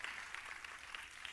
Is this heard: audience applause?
yes